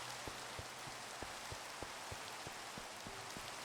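Steady rain falls in Minecraft, a soft, even hiss with scattered faint droplet ticks and no talking.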